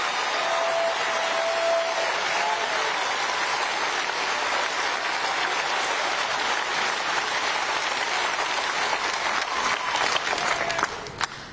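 Sustained dense applause from a large audience at a political speech, steady and loud across the whole stretch before easing off at the very end, with no voice over it.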